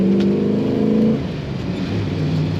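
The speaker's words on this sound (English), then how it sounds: "Today we're driving a 1962 Chevrolet Impala, a very nice one." A V8-powered 1962 Chevrolet Impala hardtop with a 3-speed manual rumbles while driving, a loud close steady engine drone with a pitch change as it shifts partway through.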